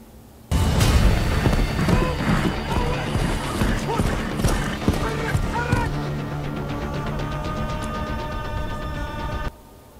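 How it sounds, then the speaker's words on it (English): Horse hooves clip-clop across the desert in a movie scene, a loud dense mix of rhythmic hoofbeats, honking and whinny-like calls over a music score, cutting in abruptly and ending suddenly. "This man is in the desert on a horse"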